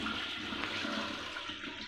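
A blocked toilet flushing, a steady close rush of water without a clear draining gurgle, loud and continuous for under two seconds.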